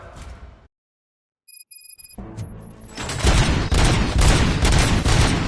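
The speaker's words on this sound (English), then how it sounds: "Gunshots? What's going on?" A rapid burst of gunfire erupts in the RoboCop: Rogue City video game after a brief silence, dense repeated shots running continuously and loud, with a few high electronic tones before it.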